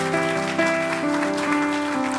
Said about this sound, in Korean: 서로를 향하여서 사랑과 격려의 박수 주시면 너무나 감사하겠습니다